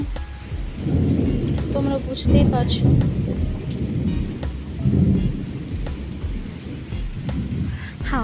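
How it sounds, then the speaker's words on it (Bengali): Heavy rain pours steadily near a pond, with repeated rumbles of thunder rolling in and out. A person speaks briefly over the storm. "বৃষ্টি হচ্ছে"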